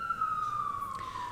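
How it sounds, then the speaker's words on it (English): A siren wails outside in town, one long tone gliding slowly downward, moderately distant and steady against quiet background noise. "Of course, the sirens going crazy."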